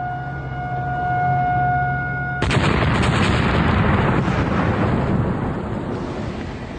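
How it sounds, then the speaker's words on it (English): Dynamite blast at a construction site: steady warning-siren tones give way to a sudden loud explosion whose broadband roar rumbles on for several seconds. "More dynamite caps are placed in the hole before the explosion is triggered."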